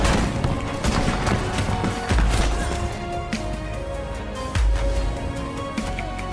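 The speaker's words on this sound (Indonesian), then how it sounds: "Pasukan Jerman pun membalas dengan tembakan senapannya." Dense, continuous rifle gunfire from German troops crackles throughout with heavy booming thuds, like a chaotic battle scene with rapid shots layered over rumbling impacts.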